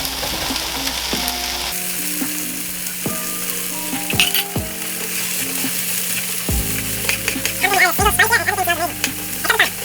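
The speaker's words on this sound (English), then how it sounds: "Adding in the mushrooms and the green onions now." Mushrooms and green onions sizzle in a stir-fry pan for a vegan quinoa stir-fry. A steady, loud frying hiss runs throughout, with occasional stirring clatter and tonal music playing underneath.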